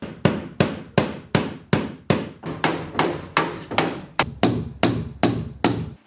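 Hammer blows nailing a bathtub in place during a bathroom rebuild, about fifteen sharp, evenly spaced strikes close up, each ringing briefly, with no talk.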